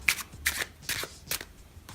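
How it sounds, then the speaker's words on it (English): A deck of playing cards is riffle shuffled in several quick bursts, each a short crisp flutter of cards, close and clear with brief pauses between. "riffle shuffles to control cards."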